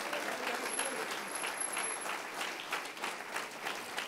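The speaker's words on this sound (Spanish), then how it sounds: "Un fuerte aplauso a Cristo en esta hora." A church congregation claps together in sustained, steady applause, a dense crowd of hands at moderate distance continuing throughout without let-up.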